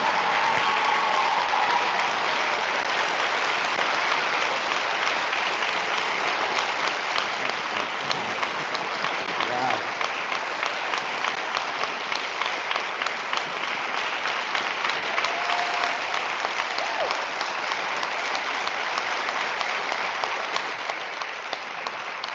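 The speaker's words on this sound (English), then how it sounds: "Let's give them a round of applause." An audience at a high school senior awards ceremony applauds steadily for over twenty seconds, a dense, even wash of many hands clapping that holds at a constant level and thins slightly near the end.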